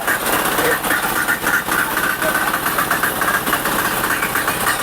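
A farm cultivator engine idles in neutral with a loud, steady, close diesel-like chug and a rattling vibration that carries throughout, and nobody talks over it.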